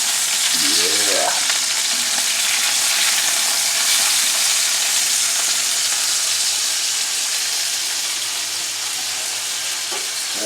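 Beef steaks sear in a cast iron skillet, giving a loud, steady broadband sizzle that holds for the whole stretch, with a brief utensil scrape near the start and no talking.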